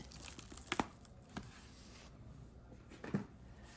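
Saran plastic wrap is cut for a watercolor craft project, giving a few quiet, sharp crinkling snips and rustles spaced a second or two apart against a near-silent room.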